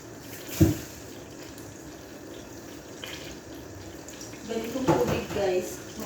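Water spills and splashes from a large water container with a cracked, broken bottom, a continuous wet gushing with a louder splash near the end, while a person talks over it.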